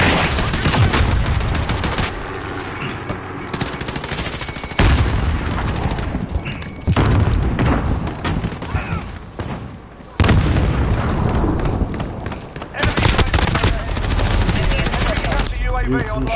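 Gunfire from Call of Duty Modern Warfare, shooting through a fence: loud, dense bursts of automatic fire and heavy impacts that run nearly without a break, with a few short pauses.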